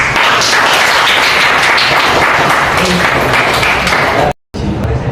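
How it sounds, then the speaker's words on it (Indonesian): Classroom applause for a group of students at the end of a lesson, loud dense clapping filling about four seconds before a sudden cut, then resuming briefly. "tepuk tangan buat kalian semua"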